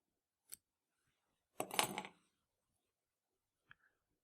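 Small scissors trim synthetic fly-tying wing material close to the collar of an Easy Cicada fly: a soft snip, one longer crisp cutting sound, then a final faint click in a quiet room.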